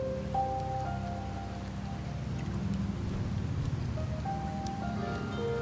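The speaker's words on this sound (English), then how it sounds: "The rains in Septimont never seem eager to leave this season." Rain falls steadily in the video game Wuthering Waves, a dense continuous patter under soft sustained musical tones, even and moderately loud throughout with no voices.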